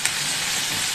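Roughly chopped onions frying in a pan as the base for a spicy jackfruit curry, a steady, close hiss and sizzle of oil that holds evenly throughout with no talking.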